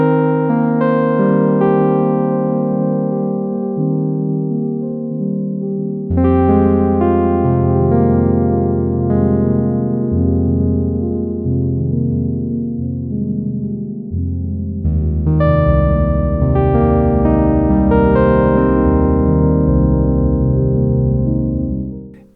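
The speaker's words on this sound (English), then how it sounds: "I want to look at this one called Eyes in a Crowd." Eyes in a Crowd, an Oracle synth preset, plays three long phrases of bright cascading notes that fade away like echoes, each swell restarting loudly, with no voices over roughly twenty seconds.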